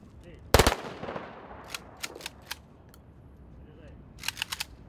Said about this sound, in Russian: ветерана войны, капитана Батажапа Батуева, отданы воинские последние почести и военный салют.